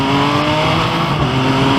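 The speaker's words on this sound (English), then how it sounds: "Got a motorcycle behind me." A motorcycle rumbles past close behind on a road beside a parked dragster, its engine drone steady and loud throughout with no talking.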